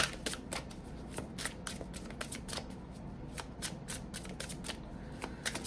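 Tarot cards being shuffled by hand, with a quick series of crisp riffling snaps repeating close up over a quiet background.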